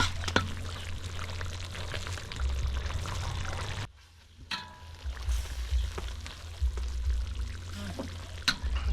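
Condensed milk poured into a Thai dish while cooking, a steady soft liquid stream with a low hum beneath, briefly pausing midway before pouring resumes.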